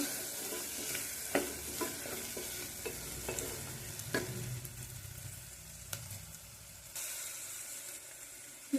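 Garam masala powder frying in a pan while being stirred, a soft sizzle under repeated scraping and clinking of a spoon against the pan, close but fairly quiet, with no talk.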